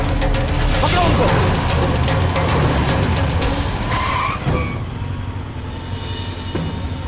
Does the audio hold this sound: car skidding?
yes